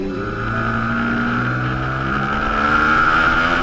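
A Ducati 848 Evo Corsa SE supersport motorcycle with an 849cc L-twin engine runs loud and close, its strong harmonic drone holding steady and then climbing slightly in pitch as it pulls.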